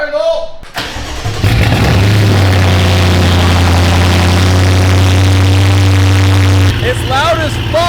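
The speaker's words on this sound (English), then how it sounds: "Let's start this thing up fully straight pipe." Straight-piped turbocharged V8 in a roughly 600 hp BMW cranking and firing up, then holding a very loud, harsh, booming roar with steady revving before dropping back, voices briefly audible around it.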